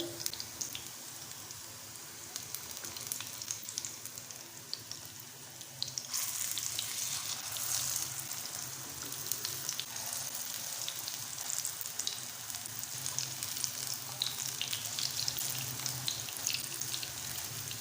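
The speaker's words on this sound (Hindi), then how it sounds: "हमारे कबाब अच्छे से फ्राई हो गए हैं" Brinjal vegetable kebabs shallow frying in oil in a pan, a continuous dense sizzle and crackle that grows louder and brighter partway through.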